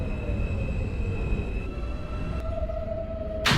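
A simulated NYC Subway R160A Alstom Q local train runs in the OpenBVE game, a steady rumbling roll with faint motor whine, ending in a sudden louder burst.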